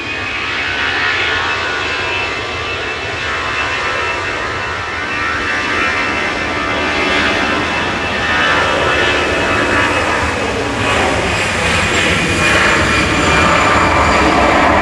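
An EasyJet airliner bound for Venice at Manchester Airport, its jet engines giving a loud, continuous roar that swells slightly over about fifteen seconds, heard from an open viewing area with no voices.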